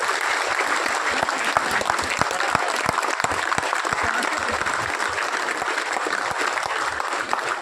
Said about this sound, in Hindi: खड़े होकर रीगल परिवार के जितने भी सदस्य हैं किसानों के सम्मान में